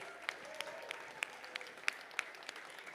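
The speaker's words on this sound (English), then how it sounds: "A round of applause to all our graduates." Scattered, sparse clapping from an audience honoring graduates at a startup pitch fest and showcase, with a few sharper individual claps standing out over a quiet room.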